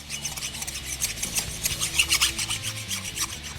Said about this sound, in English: Even though it's a new ring, you want to go around the outside edge with a file.